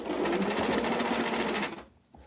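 Sewing machine stitching the fabric of a Barbie dress, a fast, steady mechanical whir with a rapid needle chatter, running close and continuous before stopping abruptly near the end.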